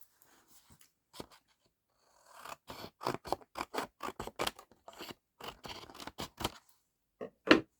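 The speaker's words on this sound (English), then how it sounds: "shall we just cut this bit off? Grabbing some scissors." Scissors snip through paper in a quick run of crisp, close cuts, with a few isolated snips before and a louder clack at the end.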